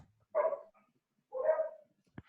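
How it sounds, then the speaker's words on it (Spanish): Dogs barking outside at a passing garbage truck: two separate bark bursts about a second apart, moderately distant, followed by a brief click, with no talking. "Están ladrándole al camión de la basura, están adelante."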